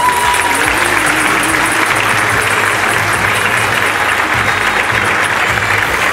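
Sustained, loud applause from a large audience fills the hall without pause at an end-of-year dance festival held by a music and dance school.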